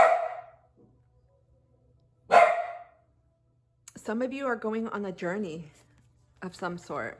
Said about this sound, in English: Sorry for the barks of my dogs.